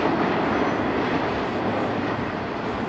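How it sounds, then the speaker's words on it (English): Norfolk Southern freight 22K, running from Chicago's 47th Street Yard toward Ayer, Massachusetts, rolls past at a malfunctioning crossing in a steady, broad, fairly quiet rumble of wheels and cars, with no pauses. "Norfolk Southern 22K right there"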